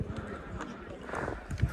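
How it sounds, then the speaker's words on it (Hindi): Riding horses in Kumrat Valley clop and shuffle on the ground, with a whinny standing out against busy outdoor background noise and faint voices. "इसके बाद घोड़े की सवारी करते हैं जैसे कि पिछले साल भी किया हुआ था"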